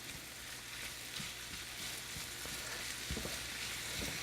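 Potatoes with garlic and herbs sizzle steadily in a hot pan while being stirred, with soft scraping knocks from the utensil now and then.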